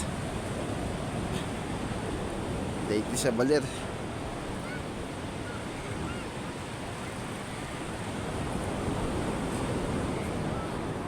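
Sea waves wash along the shore at Baler, a steady broad roar mixed with wind buffeting the microphone, while a voice talks briefly near the start.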